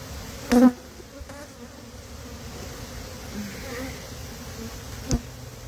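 Honey bees buzz around an open hive outdoors, a soft continuous hum with a couple of brief, closer passes that rise in loudness before fading back.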